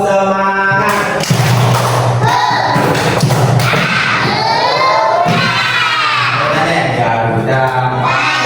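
A classroom of children doing a rhythmic clapping chant, loud and close, with sharp group claps and shouted chanting in a fast beat, voices rising into cheers.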